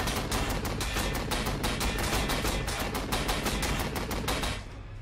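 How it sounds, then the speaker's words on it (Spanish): Gatling machine gun fire in the strategy game Warhammer 40000: Sanctus Reach: a loud, sustained stream of rapid, evenly spaced shots that runs unbroken for about four and a half seconds, then cuts off into a fading tail. "con la ametralladora Gatling, desde luego, no le vamos a hacer mucho daño"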